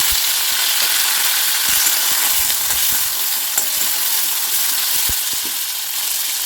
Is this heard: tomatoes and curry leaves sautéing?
yes